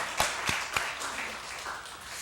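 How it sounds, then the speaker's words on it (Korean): A church congregation claps in encouragement for its elders, opening with a few sharp distinct claps before settling into softer scattered applause in a large room. "우리 힘차게 한번 응원의 박수, 격려의 박수"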